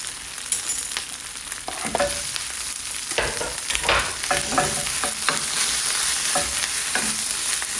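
Shrimp frying in a pan with garlic scapes, tomato paste and salt, sizzling steadily with repeated stirring scrapes and clatters close by, no voices.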